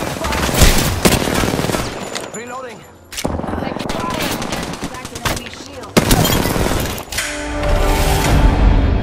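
Rapid automatic gunfire and bursts of shots in a shooter video game, loud and sustained across the whole stretch with brief lulls, layered with game effects and voice callouts.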